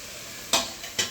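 Spices and tomatoes sizzle in a pan, with two quick stirring or tossing scrapes as potatoes go in, close and brief.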